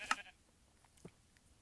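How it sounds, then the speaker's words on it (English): A single short sheep bleat from the Minecraft survival game rings out near the start, followed by a fainter second sound, with quiet surroundings otherwise. "Sheep."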